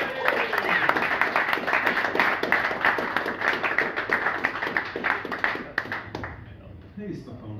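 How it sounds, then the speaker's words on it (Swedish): Warm applause from a stand-up comedy club audience greeting a new comedian, dense steady clapping that fills the room, then thins out and fades near the end. "En varm applåd till Sebastian Eriksson!"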